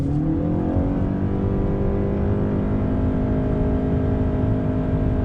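A 2019 Honda Accord Hybrid accelerates with its CVT holding the engine at a steady, loud drone from inside the car, the revs climbing smoothly without gear changes and no talk.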